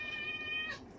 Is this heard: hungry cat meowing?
yes